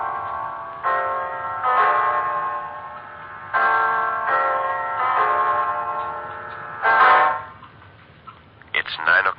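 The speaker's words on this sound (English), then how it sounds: "It's 9 o'clock, Mrs. Reeves." In a 1944 radio drama, a clock strikes nine o'clock, ringing out repeated resonant chimes in a slow, evenly spaced sequence, with one final louder strike before a voice begins.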